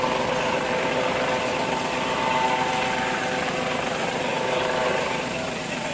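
The Shockwave jet truck, an enormous semi powered by three jet engines, fires up with a loud, steady roaring whine that holds at constant strength throughout, close and alone with no talk.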